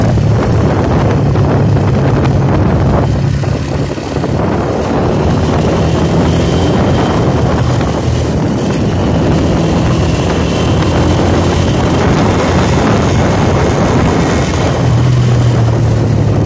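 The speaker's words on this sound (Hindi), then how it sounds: "अकेला बैठा हूँ मोटरसाइकिल पे से एहतियात के साथ जा रहा हूँ।" A motorcycle ridden alone through a valley near a village gives a steady engine drone mixed with heavy wind roar against the microphone, loud and continuous throughout.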